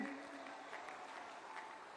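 Faint, distant crowd applause at an outdoor political rally in Alwar, Rajasthan, a steady patter of many hands clapping at low volume for a couple of seconds.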